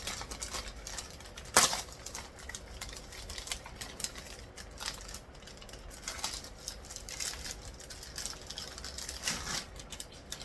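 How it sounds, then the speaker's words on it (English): Cardboard and plastic packaging of a Bikaji Soan Papdi sweet box is torn open nearby, a quiet run of crinkling, ripping and scratchy rustles with one sharper tear near the start. "We're going to quickly tear it open and check out the inside packaging."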